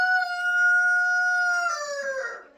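A rooster in a backyard chicken coop crows once, close and loud, with a long sustained call that breaks and fades at the end.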